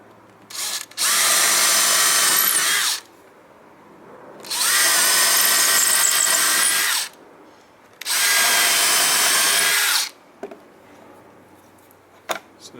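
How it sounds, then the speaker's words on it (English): A power drill bores holes into a wooden board for a workshop cupboard built from a WWII anti-tank gun chest, in three loud sustained bursts of about two seconds each, separated by quiet pauses and small handling knocks. "So this one can be my template for drilling this side."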